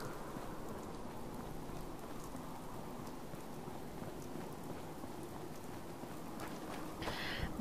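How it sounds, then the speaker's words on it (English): Steady rain falls across the ruined Commonwealth in Fallout 4, a dense, even hiss of drops that fills the whole stretch without pause, swelling slightly louder near the end. "I love how the sound of rain."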